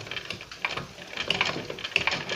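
A sewing machine stitching the band of a homemade chef cap, with a steady rapid mechanical clatter running throughout, close and moderately loud, with no talking.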